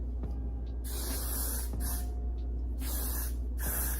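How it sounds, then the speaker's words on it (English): Repeated short bursts of Got To Be Glued hair glue aerosol spray hissing onto hair, about four separate sprays with brief pauses between them, close and fairly loud. "I'm gonna just give everything like a light spray with my Got To Be Glued"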